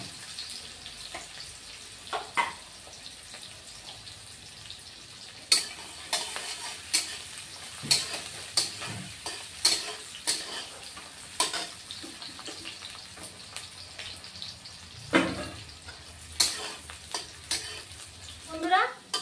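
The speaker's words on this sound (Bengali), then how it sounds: "পেঁয়াজ এখন আমি দিয়ে দিচ্ছি, কুচানো পেঁয়াজ, এই যে কুচানো পেঁয়াজ দিয়ে দিলাম।" Chopped onions fry in a pan for a koi fish curry, a soft steady sizzle broken by repeated sharp scraping and stirring clicks, fairly quiet and close.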